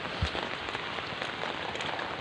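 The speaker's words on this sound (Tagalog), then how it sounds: "So maulan-ulan eh." Steady rain falls in rural farmland, a soft even patter with no voices and one brief low thump near the start.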